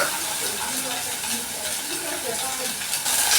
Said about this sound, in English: So you're going to wait for the onions and the beef to cook.